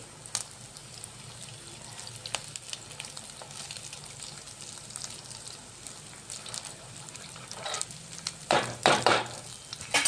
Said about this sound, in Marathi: आता क्रिस्पी पर्यंत तळून घ्यायची.